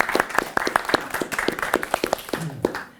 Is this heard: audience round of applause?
yes